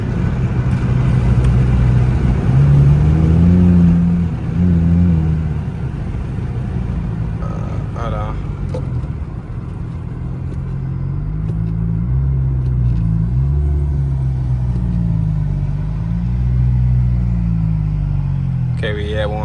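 A Dodge Challenger SRT8 V8 rumbles low and steady while driving in first gear, heard from inside the car, with people talking over it throughout.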